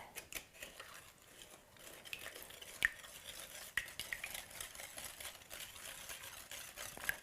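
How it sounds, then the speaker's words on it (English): Lime juice and sugar are whisked in a bowl, giving a soft, rapid run of light scraping strokes with a few sharper clinks against the side, quiet and close. "I'll give this a little whisk"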